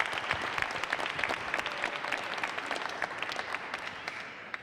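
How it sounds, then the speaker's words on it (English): At a boxing press conference in Branson, the crowd applauds the fighters' coaches with a sustained, even clatter of many hands, moderately distant and fairly quiet, with no voices over it. "Fighters, give your coaches a big round of applause right now."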